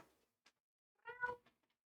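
A needy pet cat gives one clear, close meow, preceded by small faint taps and a short soft sound, in an otherwise quiet room with no talking.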